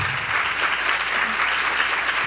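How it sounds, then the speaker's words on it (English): An audience at a school district advisory board meeting claps in steady, dense applause that fills the room for a couple of seconds without pause. "So if you would please join me in giving Christy a round of applause"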